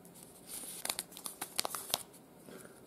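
A thin plastic bag from a Casio MTD-1053D watch package crinkles and rustles faintly in short, irregular bursts close by, with no voices.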